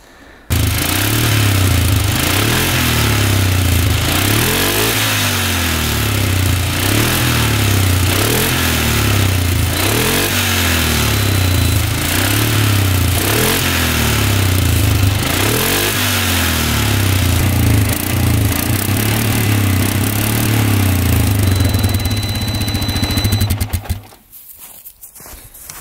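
Cheap plowing ATV with a smoking problem idling after start-up, a loud, close, rhythmic engine chug that pulses evenly for about twenty-four seconds before cutting off abruptly.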